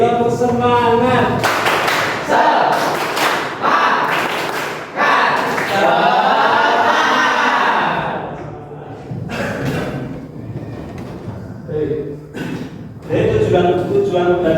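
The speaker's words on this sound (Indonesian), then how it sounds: "Sekali lagi, tepuk semangat." Students in a classroom repeat a rhythmic cheer clap, with loud clustered bursts of group hand claps and voices chanting and shouting through it. Quieter gaps fall between the rounds.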